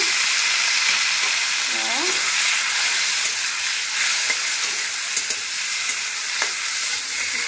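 Onions frying in oil in a pan until reddish-brown, a loud, continuous sizzle with a hissy crackle throughout, plus a brief faint tonal squeak early on.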